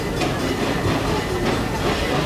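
Busch Gardens Tampa tour train rolls along its rails with a steady, close rumble and rhythmic clickety-clack of wheels over track joints, continuous throughout.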